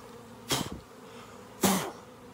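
A large swarm of honeybees, roughly twenty thousand gathered in a ball outdoors in spring, gives two short, loud bursts of close buzzing, each about a quarter second long, over a faint steady background hum.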